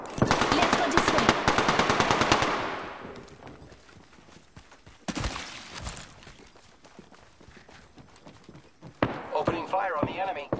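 Rapid automatic gunfire in Apex Legends, a dense burst of close shots for a couple of seconds, then sparser single shots and another burst, with in-game voice lines between.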